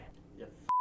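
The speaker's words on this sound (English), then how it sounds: "That was my phone." A mobile phone alert tone cuts in near the end as a single loud, steady electronic beep, sounding right after a stretch of quiet speech and room noise.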